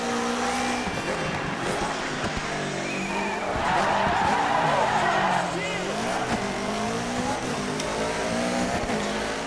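Rally car drifting on gravel in DiRT 3 Complete Edition on PC, the engine revving and wavering in pitch through the slide while the tyres skid and scrabble loudly, and someone talks over the noise.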